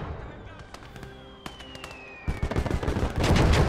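Anti-aircraft flak guns fire in the World War II strategy game Call to Arms: Gates of Hell, sharp scattered reports building into a dense, heavy barrage of rapid booms while a plane engine whines overhead and someone talks.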